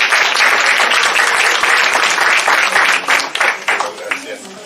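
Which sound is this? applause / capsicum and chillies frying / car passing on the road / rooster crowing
applause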